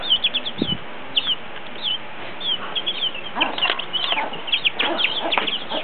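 Young chicks peck at ground powdered corn, giving soft rapid chirps and light pecking clicks close by, with bursts of cheeping and faint fluttering growing busier over the second half.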